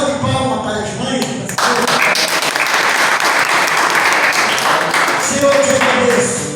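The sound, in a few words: applause for mothers in church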